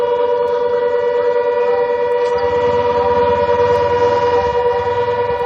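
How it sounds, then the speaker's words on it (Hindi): A loud, steady air raid siren wails continuously in Barmer, India, with a sustained droning tone, holding its pitch throughout against a low rumbling background. "हम सायरन की आवाज सुन भी पा रहे हैं"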